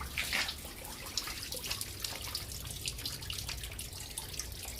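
Water runs from a tap in a steady, close splashing stream with scattered drips, near crayfish kept by the faucet.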